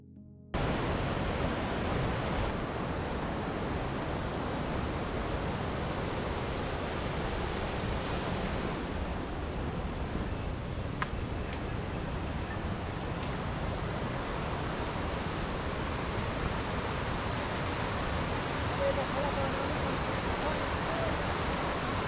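A big mountain river rushes beside a trekking trail on the Dhaulagiri Circuit near Myagdi, a loud, steady, broadband roar of churning water that holds unbroken and close throughout.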